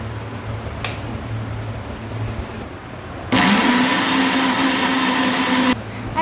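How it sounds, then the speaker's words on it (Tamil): A blender grinds mango pieces with sugar in a loud, steady whir that starts abruptly partway through and then stops, following a quieter stretch of low background hum. "மேங்கோவை பீஸாக வெட்டி அடுத்து சீனி போட்டு அரைக்கணும்"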